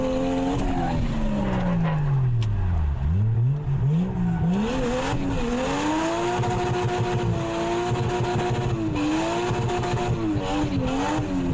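A Nissan 180SX drift car drives with a loud, steady engine note that rises and falls as it revs, its pitch dipping then climbing again, with no talk over it.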